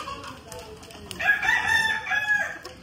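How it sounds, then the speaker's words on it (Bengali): A young rooster with a white-topped crest and red-black plumage crows once nearby, a single bright drawn-out call rising over a quiet farmyard background, with no talking. "এই যে দেখেন ওই আগেকার দুইটা মোরগ"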